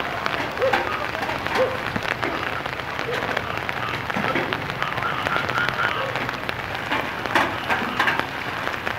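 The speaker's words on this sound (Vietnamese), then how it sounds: "Mưa thì không ngớt." Continuous rain during the flood season in the Vietnamese countryside, a steady hissing patter with scattered close drips and taps, lasting throughout at an even level while a voice talks faintly underneath.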